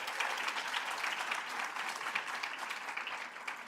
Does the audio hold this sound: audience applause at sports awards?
yes